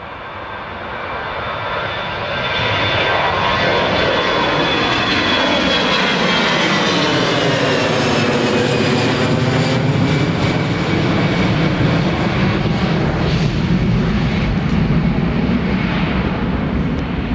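An EasyJet airliner takes off at Newcastle Airport, its engine roar swelling within the first couple of seconds into a loud, sustained rumble with a sweeping whine that holds steady as the jet passes.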